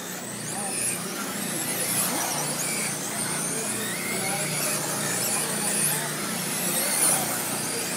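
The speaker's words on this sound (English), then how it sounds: "Top three cars on the track right there together through one and two." Sprint cars roar around a dirt track in a continuous loud, high-pitched engine drone with tire squeal, and an announcer talking over the noise.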